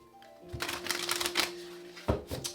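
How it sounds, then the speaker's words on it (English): Tarot cards being shuffled by hand, close up, in two quick riffling bursts with a soft crackling rustle between them and no talk. "Let's get 2 more shuffles."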